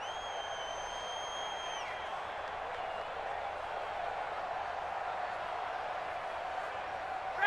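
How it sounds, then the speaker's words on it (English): Stadium crowd in Madden NFL 20 holds a steady, dense roar throughout, with a brief high whistle-like tone in the first two seconds before the crowd noise settles into an even wash. "The crowd's not doing that O-line any favors."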